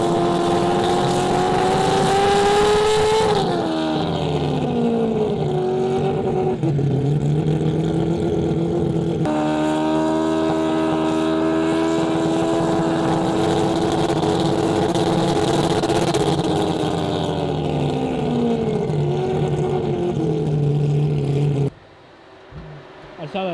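Four-rotor Mazda RX-7 with AWD holding on a two-step launch control, a loud buzzing rotary engine rev held and shifting pitch repeatedly, then cutting out near the end.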